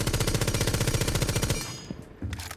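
Rapid automatic fire from the Ash R4C rifle in the video game Rainbow Six Siege, a loud, steady burst lasting about a second and a half that cuts off abruptly, followed by fainter scattered game noises.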